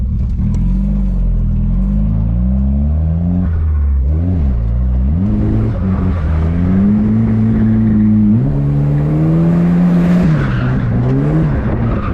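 A Volvo 740 drift car's engine revs loudly and steadily, rising and falling through the range with a slight stumble at low RPM, accompanied by tire squeal and skidding.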